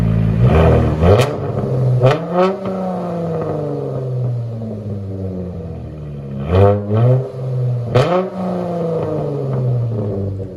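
A Dodge Challenger 3.6L V6 exhaust rumbles at idle, then revs sharply several times, rising to a loud roar near 114 decibels and falling back, close by with no talking.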